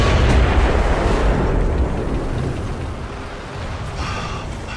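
A German tank's low-velocity gun fires in War Thunder tank combat, a loud, heavy boom at the start that rolls off into a long, fading rumble.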